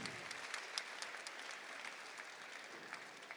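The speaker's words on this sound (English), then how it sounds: "Give a big round of applause to the judges." An audience at a robotics competition event applauds the judges, a continuous patter of clapping from a sizeable crowd that stays fairly even and moderately distant throughout.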